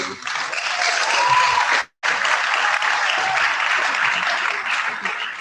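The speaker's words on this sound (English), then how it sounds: "I think we should clap for him." A crowd applauds steadily and loudly, with a brief break in the middle before the clapping continues.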